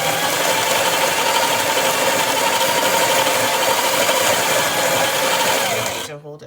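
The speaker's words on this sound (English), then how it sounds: "you push it against the button. It grinds coffee." Espresso machine's built-in grinder running steadily as it grinds coffee into a portafilter held against the button, a loud continuous whirring buzz that cuts off abruptly near the end.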